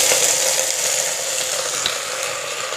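Chopped onions hit hot oil in a pressure cooker and fry with a steady, loud broadband sizzle that holds for the whole moment, with no voices.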